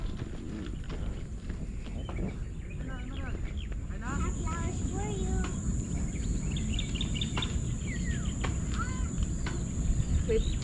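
Birds chirp and whistle in bamboo beside a quiet bike trail, bright calls scattered through the clip over a steady outdoor background rumble, with occasional louder trills midway and toward the end.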